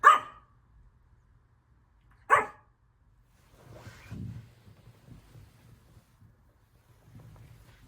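A dog barks twice, loud and close, with a pause between the sharp yaps, followed by low muffled rustling and handling noise.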